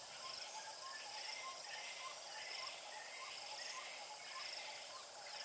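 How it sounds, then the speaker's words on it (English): High-pitched tweeting of a pied wagtail in a lush outdoor setting, repeated thin chirps at moderate distance over a steady bed of insect and cricket buzz. "That high-pitched tweeting"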